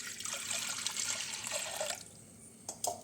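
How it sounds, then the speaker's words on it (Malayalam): Water pours into a pressure cooker holding lentils, a steady splashing stream for about two seconds that then stops, followed by a few faint drips and clinks. "ഇതിലേക്ക് ആവശ്യത്തിന് വെള്ളം ചേർത്ത് കൊടുക്കാം കേട്ടോ"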